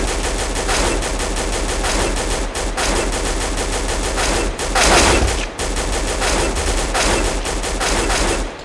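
Counter-Strike rifle fire from the AK47 or M4 rattles on with hardly a break, a loud, dense stream of in-game gunshots with only short dips between volleys.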